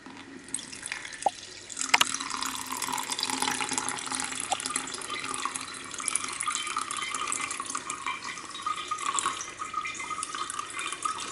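Running water washing gold flakes recovered from mobile phone SIM cards, a steady close splashing stream with a few drips at the start, continuous and fairly loud throughout.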